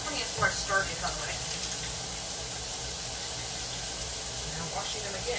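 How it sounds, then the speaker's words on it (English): Running tap water from a kitchen sink as hands are rinsed of chopped onion, a steady broadband rush continuing throughout at moderate level with a few brief splashes. "Now washing them again, because I have onion all over them."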